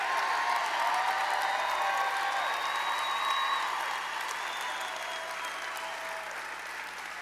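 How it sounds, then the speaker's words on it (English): An audience applauding at a leadership talk, with sustained dense clapping from a large crowd that starts loud and then gradually tapers off over about seven seconds, with a faint tonal hum beneath. "they can applaud you very briefly"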